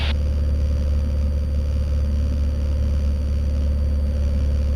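Low, steady drone of a Cessna 172M's piston engine turning at low RPM in flight, a continuous rumbling hum with no speech over it.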